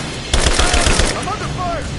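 Rapid automatic gunfire in the video game Rise of the Tomb Raider, a loud close burst of about eight shots followed by a chaotic firefight with whistling, ricocheting sounds.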